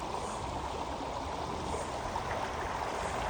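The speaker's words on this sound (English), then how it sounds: "I love the sound of running water, just so peaceful." Running water of a stream being crossed outdoors, a continuous rushing babble, full and close, with no voices over it.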